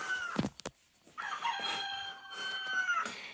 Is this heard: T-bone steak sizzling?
no